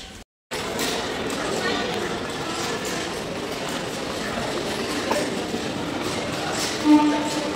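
Busy platform ambience at Sealdah railway station, a dense steady rumble of trains and crowd noise, with a brief dropout at the start.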